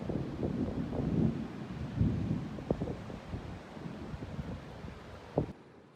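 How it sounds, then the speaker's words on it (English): Heavy rain falling during a tropical beach-town thunderstorm, a soft steady wash with wind buffeting the microphone and a few low thumps, faint and distant. "So much rain. Ooh, lightning."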